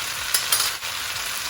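A cauliflower, chickpea and potato curry with tandoori paste is stirred in a sizzling pan, giving continuous frying hiss with a couple of brief scraping strokes.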